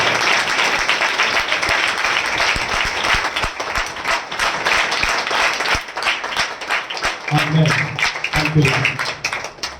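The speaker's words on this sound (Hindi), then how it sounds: "हम जोरदार ताली से स्वागत करें" A crowd at a prayer meeting claps steadily and enthusiastically for several seconds, with a voice briefly audible beneath the applause near the end.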